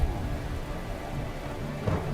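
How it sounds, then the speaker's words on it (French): A film thunderstorm rumbles low and deep under a steady wash of heavy rain, a brief, dense and fairly loud stretch of storm noise with no voices. "C'est impossible que ce soit notre tempête."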